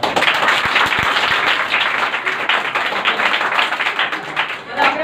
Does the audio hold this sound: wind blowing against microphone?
no